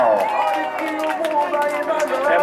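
Party guests clapping at a birthday celebration in Cangaíba, São Paulo, a steady patter of hands under loud voices and sustained tones.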